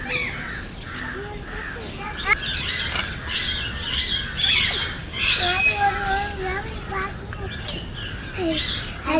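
A large red parrot in an aviary at Sarthana Nature Park, Surat, gives repeated harsh squawks and calls amid other bird noise, moderately close, with people talking nearby.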